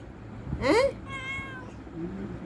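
A mother cat with her kittens lets out one clear, close meow, followed by a softer, trailing second call over a faint background hum.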